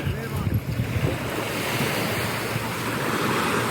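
Surf washes continuously on Playacar beach in Playa del Carmen, a steady near roar of waves mixed with gusty wind buffeting the microphone, with faint voices in the background.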